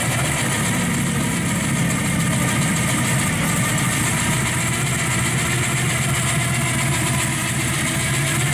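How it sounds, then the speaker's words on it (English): A 1970 Chevrolet Camaro SS with a 30-over 350 V8 and gear drive idles steadily, its loud low rumble joined by a faint gear whine that suggests a small blower, running continuously with no talk. "The gear drive kind of sounds like it's got a little blower on it."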